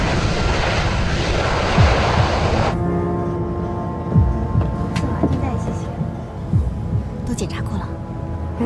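An airplane taking off with passengers aboard, heard from inside the cabin as a loud, roaring engine rush that gives way to a steadier hum. Voices speak over it.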